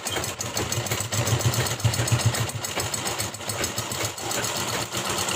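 A sewing machine hums and thrums steadily in a low, even drone while stitching a zipper onto old sari fabric, with no voices over it.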